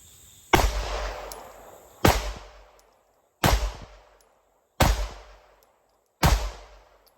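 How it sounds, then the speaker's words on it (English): Five sharp pistol shots from a Glock 19 with a Parker Mountain barrel and micro compensator, firing 115 grain PMC ammunition, evenly spaced about every 1.4 seconds, loud and close, each followed by a short ringing decay. "115 PMC, Glock 19 with the Parker Mountain barrel and comp,"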